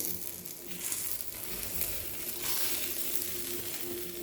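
Masala akki rotti, a rice flatbread, frying in a pan with a steady soft sizzle. It holds at a low, even level throughout, with faint scraping now and then and no talk.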